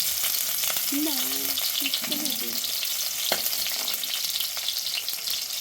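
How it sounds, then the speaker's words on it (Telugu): Chopped onion and tomato pieces frying in a pan make a steady hissing sizzle, with a few brief tonal squeaks early on and a single sharp tap midway. "ఇప్పుడు తరిగి పెట్టుకున్న ఎర్రగడ్డ ముక్కలు టమాటా ముక్కలు వేస్తాను చూడండి"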